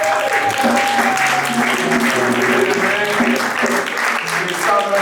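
A church congregation applauds and cheers in acclaim of the Lord, steady loud clapping throughout with voices mixed in over it.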